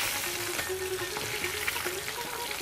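Fish for kalia fries steadily in hot oil, giving a dense, continuous close sizzle with small pops and crackles throughout, no voices over it.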